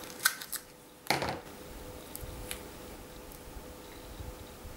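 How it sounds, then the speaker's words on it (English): Scissors snipping a small craft foam square: a couple of light ticks followed by one louder, crisp crunching cut, then a few faint clicks against quiet background, close up and with no talking. "I'll just cut this foam square a little bit."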